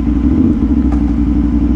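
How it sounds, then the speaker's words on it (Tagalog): A motorcycle engine idles steadily and loudly close by, a constant low throbbing rumble outside a church blessing spot in Calicoan, Guiuan, Samar, with no talk over it. "alis na tayo dito kasi masyadong maingay yung motor natin"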